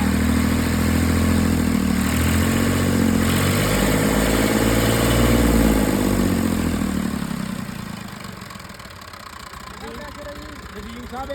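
A Massey Ferguson 240 tractor with a new engine runs at a steady, loud, close idle with low chugging, settling quieter after about eight seconds, while people talk faintly nearby.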